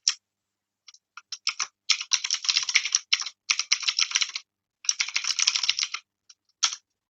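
Rapid bursts of typing on a computer keyboard, close and clear, coming in quick uneven runs of clacking keystrokes separated by brief pauses, with no voices.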